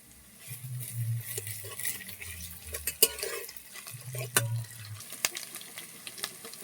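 Garlic and ginger paste hit browned onions in a hot pan, giving a close sizzle with scraping stirs and sharp utensil clatters against the pot, and no speech.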